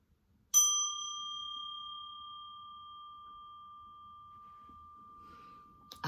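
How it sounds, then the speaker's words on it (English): A single bell struck once, its clear tone ringing out and slowly fading over several seconds in a quiet room. "let me ring a bell"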